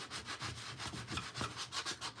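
Rhythmic back-and-forth rubbing of sandpaper on a wooden sign, sanding off glitter, about ten quick even strokes, close and fairly quiet.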